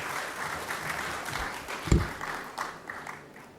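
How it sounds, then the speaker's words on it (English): An audience at an opening ceremony and hall of fame induction applauds after an introduction, a soft, steady patter of many hands clapping in a hall, with one louder thump partway through. "Please, a round of applause for Ms. Holder."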